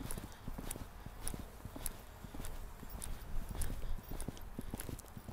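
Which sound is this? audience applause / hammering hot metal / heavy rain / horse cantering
horse cantering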